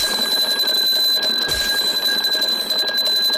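An alarm bell from the video game Ark Survival Evolved rings loudly and continuously, a sustained high metallic tone lasting the whole few seconds.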